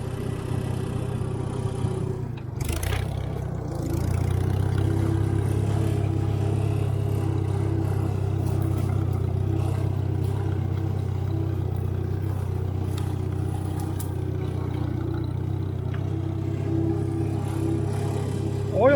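An IH McCormick Farmall 350 tractor engine runs steadily in third gear, a loud, continuous low rumble close by that settles after a brief dip near the start.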